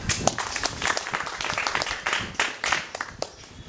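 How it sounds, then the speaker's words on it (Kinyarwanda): A concert audience applauds with dense, continuous clapping, loud and close, throughout the short stretch. "tuyihereza amashyi menshi cyane Imana"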